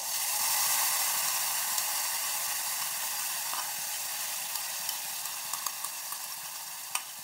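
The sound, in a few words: ground spice paste sautéing in pan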